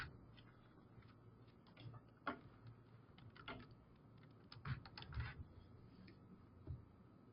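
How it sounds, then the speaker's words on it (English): Someone types on a computer keyboard while entering a committee member's details, making quiet scattered keystrokes and short clusters of clicks at close range with no talking. "I'll just type in member"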